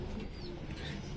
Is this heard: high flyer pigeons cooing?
yes